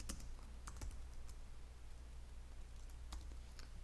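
Keys clatter on a computer keyboard as text is typed in short irregular bursts, close and fairly quiet, with light clicks over a steady low background hum.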